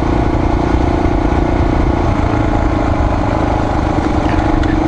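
A Honda XR400R dirt bike engine running steadily while riding on hard-packed trail, a loud continuous drone with rough low rumble and even pitch, close to the rider with no talk.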